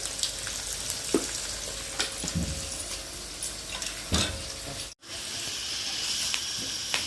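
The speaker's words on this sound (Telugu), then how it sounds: "ఉల్లిపాయలు అయితే బాగా వేగినాయి" Onions frying in oil for temple-style tamarind rice: a steady hiss and sizzle with occasional scrapes and clinks of a stirring spoon against the pan, close and continuous.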